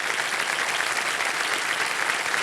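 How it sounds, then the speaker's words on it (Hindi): Studio audience of a TV quiz show giving loud, sustained applause, a dense even wash of clapping with no pauses from start to finish. "एक बार जोरदार तालियां बज जाए इनके लिए।"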